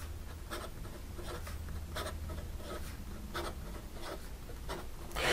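A JetPens Mini Aluminum pen scratches quickly across paper in a run of short, rapid strokes, close and fairly quiet, with no voices.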